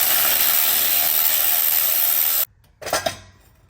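A loud, steady mechanical whir runs while turbo manifold studs are taken off, then it cuts out abruptly, followed by a brief metallic clatter and scrape.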